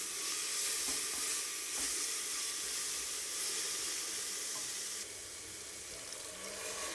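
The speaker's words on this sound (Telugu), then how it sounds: "అల్లం వెల్లుల్లి పేస్ట్ వేసి ఒకసారి బాగా కలుపుకోవాలి" Ginger garlic paste sizzling in a hot pan while being stirred for bagara rice, a loud continuous close hiss that drops slightly near the end.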